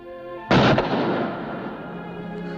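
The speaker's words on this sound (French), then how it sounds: "Tenez votre arme bien ferme. Regardez où vous tirez." A single loud gunshot rings out during shooting practice in a 1958 Western film, a sharp crack followed by a long decaying echo over quiet background hum.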